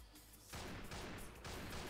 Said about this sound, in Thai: เสียงปืนดังมาก